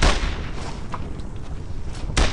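Loud, close gunfire in the World War II video game Brothers In Arms: Road to Hill 30 cracks out in sharp booming shots at the start and again near the end, over a dense combat din.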